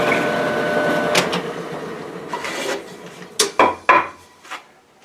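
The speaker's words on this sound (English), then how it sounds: "12 holes drilled on one side" A drill bores through a wooden board, with a rasping grind that trails off, then several short, sharp bursts close by as the bit punches through, ending in quiet.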